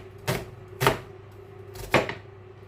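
A knife chops through a small red onion on a board in three separate crisp strokes with short pauses between them, close and fairly loud over faint background hum.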